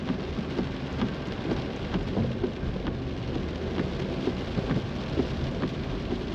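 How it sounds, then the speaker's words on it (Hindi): Continuous rain pouring near the Delhi-Manali highway close to Pandoh, a dense, steady hiss of drops on surfaces with no pauses and no voices. "कंटिन्यू बारिश हो रही है।"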